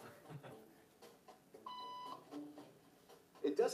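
An electronic beep signal rings out as a short steady tone of about half a second in the middle, over quiet room noise. Faint murmuring is heard around it.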